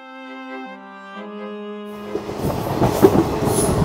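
A Silchar special passenger train rolls along the rails on the Kolkata to Guwahati route, its rumbling wheels building in volume after a sustained horn-like tone fades out.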